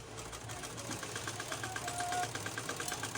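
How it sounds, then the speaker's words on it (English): A sewing machine runs steadily as it stitches a sequined lace gown along a marked line, a continuous mechanical whir with a fast rhythmic needle pulse, close and unbroken, with no voices. "I'm sewing from the line which I marked."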